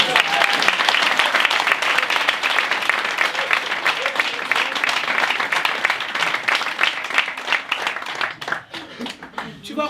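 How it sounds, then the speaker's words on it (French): Dense, steady clapping from an audience at a live French theatre comedy show, loud and sustained for the full length, thinning slightly toward the end with voices faintly underneath. "applaudissez Gladys"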